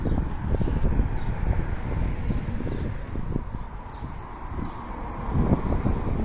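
Low rumbling wind buffets the microphone in uneven gusts, with faint bird chirps in the background.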